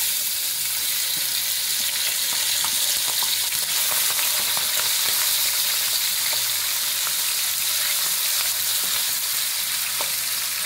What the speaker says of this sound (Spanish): Entonces ahora vamos a sofritar esto.